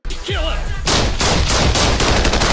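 Gunfire from the Invincible animated series: a short voice comes first, then a dense, loud, sustained volley of shots that fills the rest of the moment.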